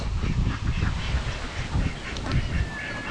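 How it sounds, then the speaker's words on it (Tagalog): Domestic ducks quacking and chattering as they are fed, a close busy chorus of overlapping quacks with a faint whistle-like tone near the end. "ating papakainin yung ating mga itik oh"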